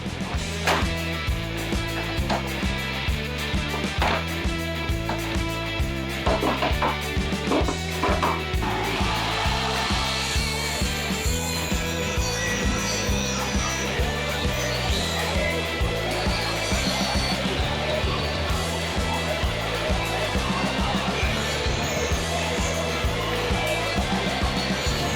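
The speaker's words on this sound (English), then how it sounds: "So I'm going to rip this down so that it's square" A saw rips a wooden strip for a rustic farmhouse lantern, a loud continuous motor drone with a rough rasping cut that changes partway through, running steadily to the end without talk.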